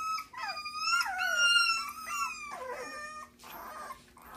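Goldendoodle puppies whine and howl in loud, wavering cries that rise and fall, several overlapping voices continuing almost without pause for a few seconds, close by with no talking.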